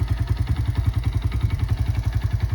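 A 2002 Honda XR100 pit bike engine fires up and runs, a close, loud, steady rapid single-cylinder putter with a clattery pulse throughout.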